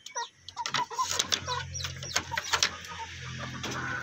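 Two new chickens cluck in a poultry brooder setup, with short repeated clucks and soft calls close by, alongside some light mechanical noise.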